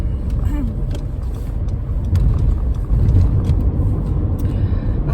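A car drives along a road on the way to a doctor, its engine and tire rumble forming a steady, fairly loud interior hum with small bumps and rattles throughout.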